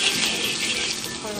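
Shrimp meat drops into hot lard in a home kitchen wok and sizzles with a loud, steady hiss throughout the brief moment.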